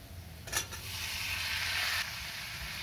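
Ivy gourd and potato pieces hit a pan of well-cooked frying spices, setting off a sudden loud sizzle that settles into a steady, close hiss for about two seconds before easing slightly.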